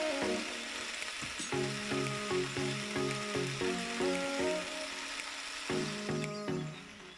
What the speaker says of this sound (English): Leave that there to saute for a minute or two.